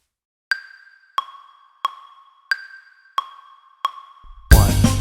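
Steady clicks struck at an even pace, sharp and isolated in quiet, sounding like a metronome or stick count rather than a full drum kit, followed by a sudden burst of louder dense playing at the end.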